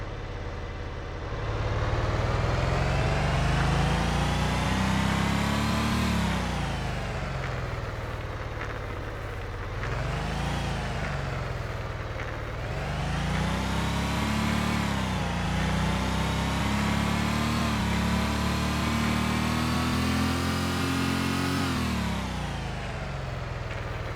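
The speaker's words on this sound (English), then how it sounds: "I will layer the engine back on here just so you can get a feel of what it sounds like with the engine noise" Car engine from the Unity-built racing game Void Racer, revving steadily and loudly with pitch that climbs, drops back and surges again in several waves, a continuous synthetic engine drone with no voices.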